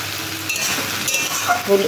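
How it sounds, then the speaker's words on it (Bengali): Taro and pumpkin greens curry sizzles in a pan as a spoon stirs it, a close, continuous frying hiss with soft scraping and a light clink near the end. "এবার আবার ঢাকনাটা খুলে দিলাম, দিয়ে আবার নাড়াচাড়া শুরু করলাম।"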